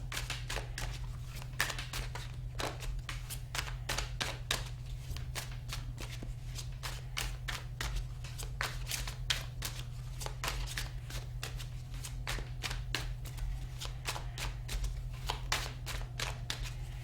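Tarot cards being shuffled nonstop, producing rapid, crisp riffling slaps that repeat in quick succession over a low steady hum, close and fairly quiet.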